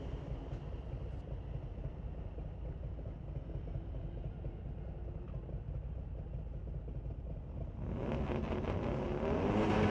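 A Hyundai Elantra pulls away at a street legal Friday night drag race at Mission Raceway Park, a steady loud engine roar building and swelling louder near the end, with no talk.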